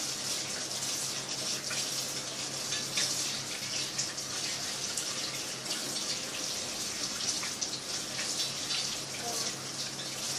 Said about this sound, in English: I'm just gonna rinse off my shoes